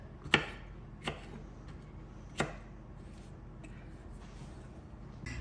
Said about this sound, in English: I am still chopping away